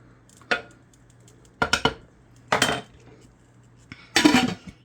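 Cutlery clinking and scraping on a plate while serving beef burgers and potatoes, several separate short clatters spaced apart, close by in a quiet room.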